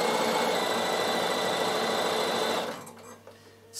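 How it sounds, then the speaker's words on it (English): A Bernina sewing machine stitches wool felt for a couched door stop, giving a steady, close mechanical whir for nearly three seconds before it stops and leaves a quieter room. "So I'm just going to stitch some around here."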